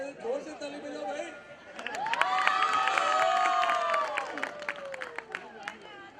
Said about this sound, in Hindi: जोर से ताली बजाओ भाई